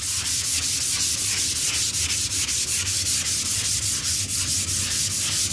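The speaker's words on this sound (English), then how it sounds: "And this is a quick, light sanding." Rapid, rhythmic back-and-forth scratching of 320 grit sandpaper lightly sanding painted furniture by hand, steady and close, with no talking.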